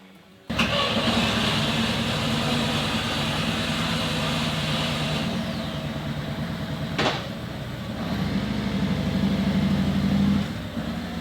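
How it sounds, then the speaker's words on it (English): A Harley-Davidson trike runs in reverse, giving off a steady electric-motor-like whir with a low drone underneath. It stays loud and continuous throughout, with a brief sharp click partway through. "That's the Trike reverse in action right there. Sounds just like an electric motor running."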